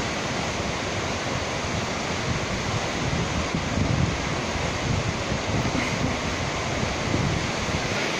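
The fast, strong current of the river Reuss in Lucerne, a continuous loud broadband rush of water that stays steady throughout, with some wind buffeting the microphone and no talking.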